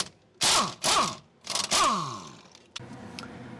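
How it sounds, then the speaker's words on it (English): A 19mm socket and vice grips working a jam nut loose on the inner tie rod of a 2003 Toyota Camry, giving a few loud metallic ratcheting and scraping bursts in quick succession, then a quieter scrape at the end; no talk. "using a 19mm socket and a pair of vice grips, we can remove the jam nut"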